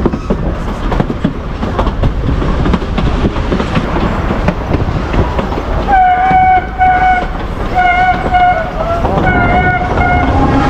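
Tourist train running from São João del Rei to Tiradentes, a loud continuous rolling rumble and rail clatter, with three whistle blasts sounding over it near the end.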